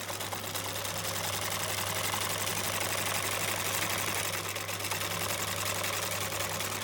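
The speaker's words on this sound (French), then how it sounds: "Et maintenant, je vais piquer donc le fond de la trousse," A sewing machine runs steadily at close range, stitching the bottom of a fabric pencil pouch with a continuous rapid hum and no pauses.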